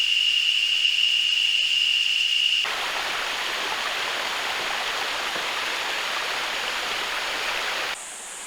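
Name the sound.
river stream flowing during dinghy trip in Costa Rica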